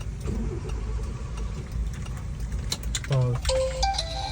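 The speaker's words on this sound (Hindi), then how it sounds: "गाड़ी सलफ ही नहीं उठा रही" A car's self-starter cranks close by and the engine fails to catch, with a low rumbling drone and a short grinding burst near the end, mixed with background noise and tones.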